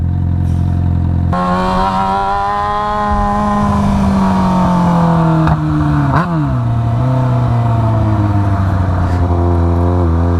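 A Yamaha FZ6R motorcycle engine, fitted with a timing advance mod, roars up through the revs on a ride, rising and falling in pitch, and winds through a gear change as it accelerates, loud and close with no talk.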